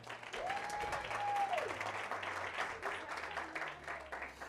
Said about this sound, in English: Ladies and gentlemen, a big round of applause for Sbu.